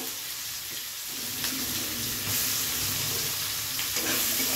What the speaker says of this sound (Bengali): ভালো করে পেঁয়াজটাকে লাল লাল করে ভেজে নেব।